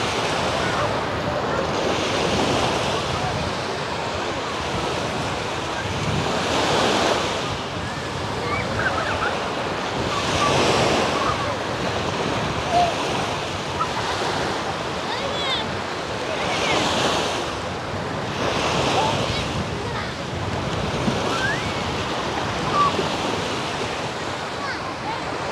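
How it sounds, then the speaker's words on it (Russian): Steady wind rushes over rolling Black Sea surf on a beach at Vityazevo, Anapa, with waves swelling and breaking every few seconds in a continuous roar; no voices. "На пляже слегка ветрено."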